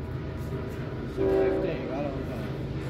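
A train with a three-engine locomotive passes, heard as a steady rumble with a brief horn blast in the middle, fairly close. A voice speaks underneath.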